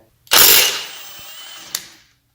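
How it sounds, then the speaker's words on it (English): An impact gun bursts into a loud whirring rattle on the 24 mm crankshaft pulley bolt of a Porsche 944, fading to a lower hum over about a second and a half, with a short clack near the end. "I was using my impact gun"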